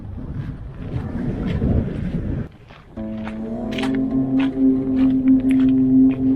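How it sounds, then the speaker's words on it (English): Wind gusts on a winter beach, buffeting the microphone in a heavy roar that drops out briefly, then resumes with a steadier engine-like drone and scattered crunching steps. "the wind drops and picks up again"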